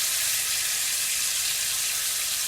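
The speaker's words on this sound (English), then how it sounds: "So I've got 2 pads of butter. You see it sizzling and there's no heat, it's just from the pan." Butter sizzling loudly in a hot pan, a constant bright hiss that stays even throughout, with no voices.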